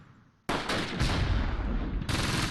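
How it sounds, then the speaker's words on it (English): Heavy cannon and gunfire in the Close Combat WWII strategy game, set at Gavrus, Normandy, June 1944: a sudden loud blast followed by sustained rumbling booms and a second sharp report near the end, with no talking. "Oh, I feel like that was a cannon."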